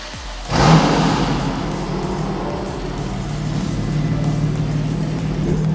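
A BMW M2 Competition with the DCT gearbox starts up and revs, a loud burst of engine noise that settles into a steady idle and then rises slightly near the end.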